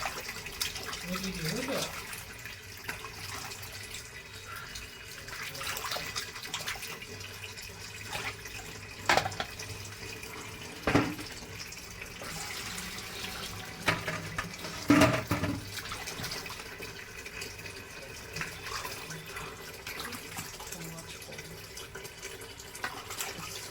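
Water runs steadily from a tap into a sink while something is washed, a constant close splashing hiss with occasional louder knocks and clatters. A voice talks over it at times.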